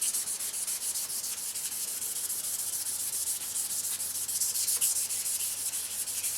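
Continuous close sanding scrapes the thin black factory coating off Yamaha exhaust pipes, a steady gritty rubbing with rhythmic back-and-forth strokes and no voices.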